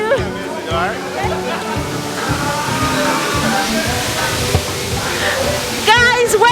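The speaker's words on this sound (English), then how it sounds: "this is the water plattering down from the mountain, from the cave per se" Water pouring down from a mountain cave at a waterfall, a steady loud rushing wash heard close, with voices talking over it throughout.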